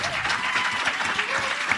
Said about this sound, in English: we're going to give them another round of applause to welcome our future into the room